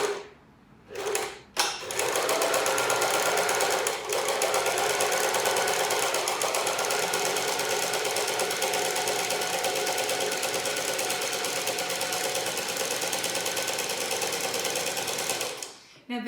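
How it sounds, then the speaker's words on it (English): A sewing machine runs a steady straight stitch along a concealed-zip cushion seam, a loud continuous mechanical whir for about fourteen seconds after a couple of brief starts. "Now the machine sews in a straight line"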